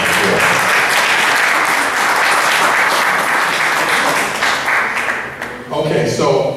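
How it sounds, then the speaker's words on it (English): A crowd's sustained applause fills a gathering in honor of an introduced couple, a dense, loud wash of many hands clapping that dips briefly near the end before swelling again. "Give them another round of applause."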